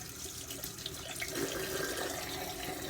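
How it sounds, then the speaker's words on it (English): Tap water runs steadily into a sink while a Slim Adjustable safety razor is rinsed, a continuous close splashing wash with no voices. "we're going to rinse out the Slim Adjustable here"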